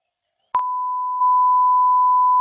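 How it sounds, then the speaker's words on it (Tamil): A censor beep sounds as a single steady, loud electronic tone that starts abruptly and holds unbroken for about two seconds. "பீப் சவுண்டுக்கு தான் பீப் சவுண்ட் போடுங்க."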